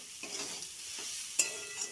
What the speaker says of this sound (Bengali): এটার মধ্যে আমি এবার দিয়ে দিচ্ছি লঙ্কা কুচি।